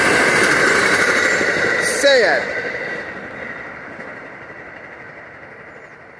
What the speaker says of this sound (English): All right, 4th New Jersey Transit train of the morning.